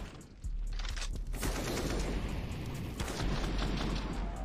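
A dense burst of gunfire rings out in a professional Counter-Strike: Global Offensive match, loud rapid shots packed together into a continuous rattling volley after a brief quieter opening.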